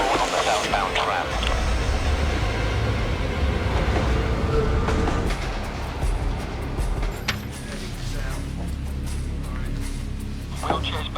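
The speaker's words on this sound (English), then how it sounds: "She's alone on the southbound tram." A southbound tram rolls along its line with a continuous low rumble and rail clatter that eases off partway through, while people talk over it.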